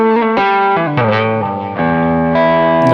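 Electric guitar played through a chorus effect with some distortion, a few sustained, shimmering chords and notes ringing loud and close, alone without talk.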